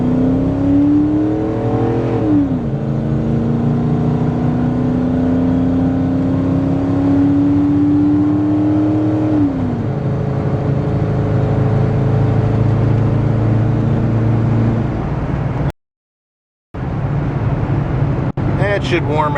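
Engine of a Ford F-150 pickup truck revs up and holds a steady climbing drone while driving, close and loud, rising twice then easing off; a short dropout and a faint voice follow near the end.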